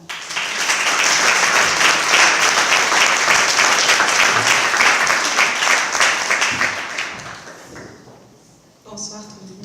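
Dense, loud applause from a gala audience welcoming a speaker, sustained for about seven seconds before fading out, followed by a brief voice.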